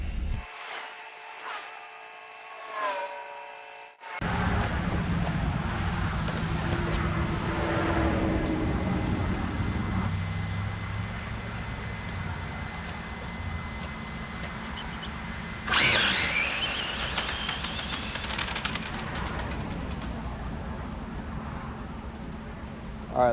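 A Losi 22S RC buggy with a Motiv 3.5-turn motor and Maclan Mmax Pro ESC running on track: a loud, continuous high-pitched electric motor whine rising and falling with throttle, preceded by brief handling noises.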